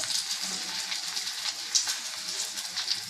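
Curry leaves sizzle in hot coconut oil, a steady close crackling hiss with a few sharper pops, with no voices.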